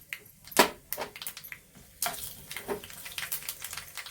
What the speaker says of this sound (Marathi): त्यामध्ये बडीशेप घालून घेऊ